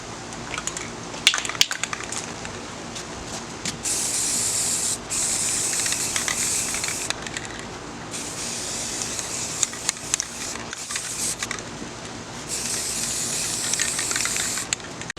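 Spray paint hisses from an aerosol can onto plastic Trackmaster toy train track outdoors, in several long steady bursts separated by short pauses, close and fairly loud with no talk.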